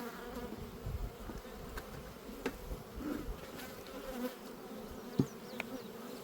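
Honey bees buzz steadily around an open backyard beehive during a summer hive check. The swarm hum is continuous and fairly close, with a few individual bees passing nearby and no speech.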